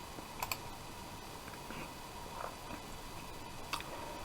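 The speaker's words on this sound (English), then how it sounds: "So if I type import and hit search" Keystrokes on a computer keyboard entering a search, a few quiet scattered clicks with a short burst near the start and another near the end, faint against low room hiss.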